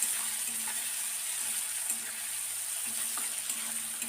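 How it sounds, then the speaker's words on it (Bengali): Chopped tomatoes stirred and fried in tempered spices for a vegetarian bitter gourd dish, a soft continuous sizzle with light, regularly spaced stirring taps, fairly quiet and close. "এবার টমেটোটা নরম না হয়ে যাওয়া পর্যন্ত এইভাবে নেড়ে নিচ্ছি।"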